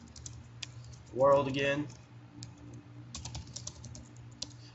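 Steady clicking of computer keyboard keys as C++ loop code is typed, with soft irregular taps running under a man's speech.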